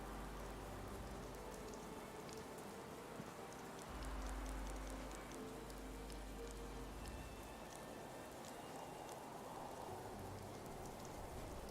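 Steady rain in the video game Fallout 76, a dense, even hiss of falling drops with scattered patter and a low rumble underneath, constant throughout with no voices.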